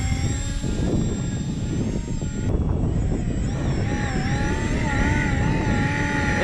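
A DIY twin-rotor gyrocopter RC plane hovers in the wind with a steady, loud motor and rotor whine. The pitch wavers and rises slightly partway through, and the sound runs continuously and close by.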